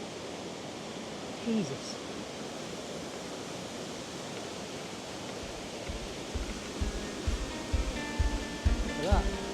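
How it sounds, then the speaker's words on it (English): A waterfall inside a slate quarry pours with a steady, broad rushing roar, constant and enveloping. A voice exclaims briefly, and low thumps and splashes join toward the end. "I'm going to assume this is the end waterfall, which you can already see."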